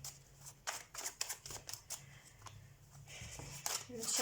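Tarot cards being shuffled in quick bursts of crisp riffling and flicking, close and moderately loud, with a low hum underneath and no talking.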